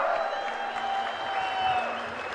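An audience at a political gathering honouring Chief Minister Nara Chandrababu Naidu claps in a brief, steady burst of applause, with crowd murmur beneath it.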